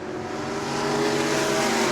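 Stock race cars of the Florida Southern Ground Pounders series roar down the back straightaway at New Smyrna, a sustained loud engine drone that swells as the field accelerates and draws nearer.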